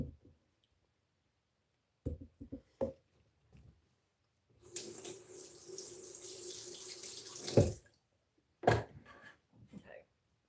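A kitchen tap runs into a sink while pizza is made for dinner, a steady rush of water of a few seconds, framed by clicks, clatter and handling noises before and after.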